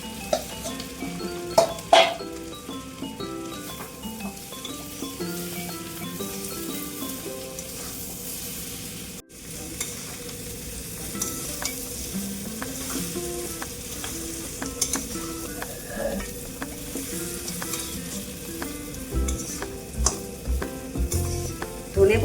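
Fish heads fry with a steady sizzle in a pan, stirred with a spoon that clinks and scrapes against the metal in an irregular rhythm. No one speaks.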